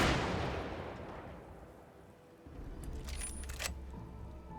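Gunshots ring out in a video game set around camps and trenches on the Caribou Trail: one loud opening blast that decays slowly, then a few sharper cracks later on, with no talk.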